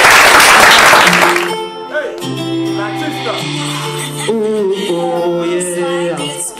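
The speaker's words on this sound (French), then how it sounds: "je voudrais que vous l'acclamiez très fort" A crowd bursts into loud applause and cheering for a young albino afrobeat singer, the clapping lasting about a second and a half before his sung melody with backing music takes over.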